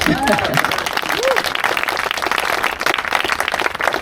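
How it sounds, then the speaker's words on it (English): Applause from the audience at a San Diego Climate Week panel on Tijuana ecosystems and water pollution, dense clapping throughout with voices talking over it. "Give a round of applause."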